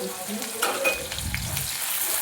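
Chopped onions frying in oil with panch phoron for a Bengali rui fish mustard-poppy seed dish, giving a steady close sizzle and hiss with some stirring.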